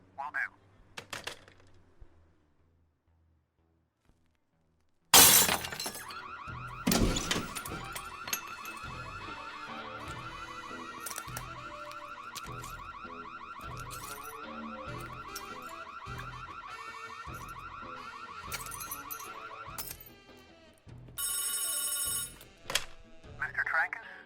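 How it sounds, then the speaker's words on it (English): A home security alarm in a film sounds after a brief quiet lead-in, a loud steady electronic ringing tone that holds for about fifteen seconds, then shifts to a harsher burst near the end. "if I were to trigger the alarm myself, could you shut it off from there, please?"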